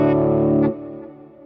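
A single electric guitar power chord rings out with heavy distortion and wet reverb, sustaining loudly for about two-thirds of a second before cutting off and leaving a fading reverb tail.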